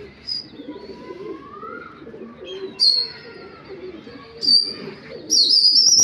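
Yellow crested pigeons coo softly near the microphone while sharp, higher-pitched calls and wingbeats burst out in several short, rising bouts, the last one loudest.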